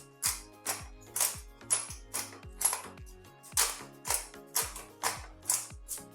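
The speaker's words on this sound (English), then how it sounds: "freshly ground black pepper" A pepper mill grinds black pepper over food in a home kitchen: about a dozen evenly spaced crunchy ratcheting twists, close and crisp, with nothing else audible.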